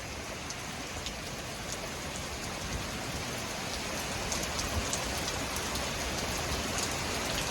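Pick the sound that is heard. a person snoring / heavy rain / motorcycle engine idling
heavy rain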